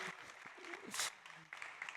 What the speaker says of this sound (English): Come on, you can get a bigger applause